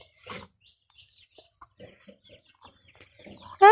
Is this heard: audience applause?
no